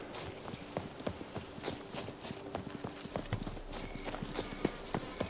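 Horse hooves clip-clop steadily on the ground in The Witcher 3, a quick, fairly close rhythm of hoof strikes over a low ambient game bed, with no talk.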